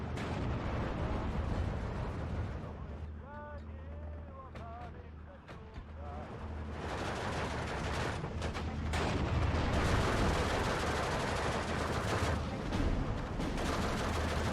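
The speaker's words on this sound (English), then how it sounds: "The artillery fire coming in, the tank engaging whilst the infantry run past." Artillery and gunfire in the World War II strategy game Steel Division 2, with tanks and infantry on a Karelia battlefield: a dense rumbling barrage of distant booms and crackling shots, heavy and continuous, swelling in the second half.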